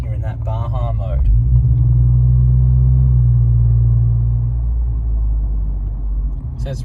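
A Ford Raptor twin-turbo V6 with an aftermarket exhaust idling and lightly revving in Baja mode, giving a deep, steady droning rumble that swells and eases. A voice speaks briefly at the start.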